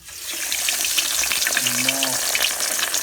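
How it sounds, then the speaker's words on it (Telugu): Fish pieces dropped into hot oil fry with a loud, dense, close crackling sizzle, and a brief voice rises faintly under it midway. "ఇప్పుడైతే నూనె వేడిగైంది. ఇప్పుడు వేసాను ముక్కలు వేస్తావా?"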